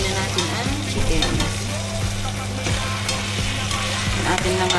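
Chicken pieces are frying in a pan with softened tomatoes, onion and garlic for pinaasimang manok. A steady close sizzle runs throughout, broken by repeated scraping stirs.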